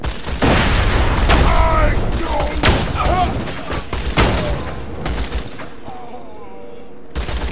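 Rapid weapon fire from Borderlands 2, bursts of loud shots repeating across the stretch with explosive booms and game effects layered in, a voice talking over parts of it.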